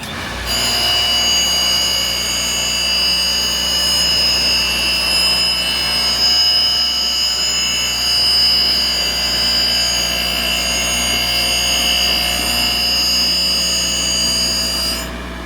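Foley 673 grinder sharpening a mower bedknife: a steady, loud mechanical whine with high tonal ringing that runs unbroken from start to finish, with no voices.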